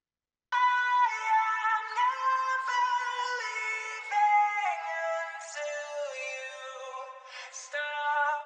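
A sustained, harmonically rich vocal runs through a 1970s-style concert hall reverb plugin, giving a floaty, spacious wash. It is heard alone and steady for about eight seconds.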